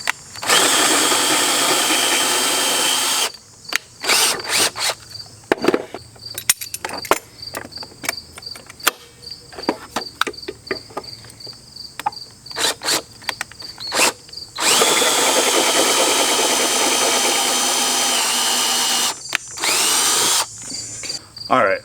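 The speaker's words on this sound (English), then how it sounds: "we'll just drill them out and go from there" A power drill opens up exhaust mounting holes on a 55-year-old mini bike, whining steadily at first, then breaking into many short stop-start bursts before a final long continuous run, loud and close.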